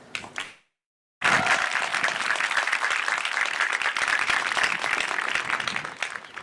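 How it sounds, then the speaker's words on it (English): After a brief pause, the audience at Mitchell College's 77th in-person commencement bursts into loud, sustained applause for the graduates' families, a dense wash of many hands clapping that holds steady to the end. "Let us give another round of applause for those both here and not here, the parents, guardians, grandparents, and families of the newest Mitchell College graduates"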